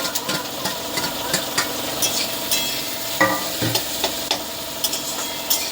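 Chicken curry with green chillies frying in a pan as a utensil stirs it, giving a steady sizzle broken by repeated scraping clicks, close and alone with no talk.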